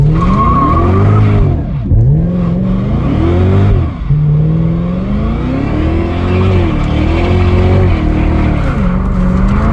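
A 640-horsepower Cadillac CTS-V engine roars continuously during a burnout as tires squeal loudly, the pitch rising and dipping with revving, close and intense throughout.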